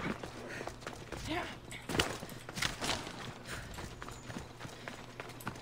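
Horse hooves clatter irregularly during riding in Assassin's Creed Odyssey, mixed with game effects and a voice talking over them at moderate level.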